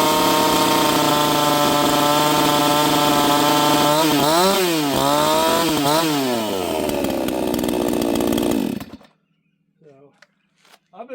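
A small, warmed-up homeowner chainsaw runs at a loud, close buzzing idle, revs up and down in a few swells, then cuts off abruptly, leaving brief quiet sounds.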